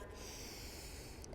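A single deep breath drawn in through the nose, a brief, close, airy rush during a calm yoga session.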